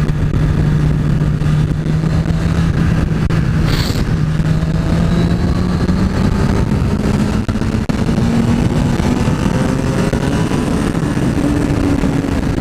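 A 2014 Honda CBR 1000 RR Fireblade sport motorcycle accelerates hard on a test ride, its engine note rising steadily and loudly through the gears with wind rush, close to the rider.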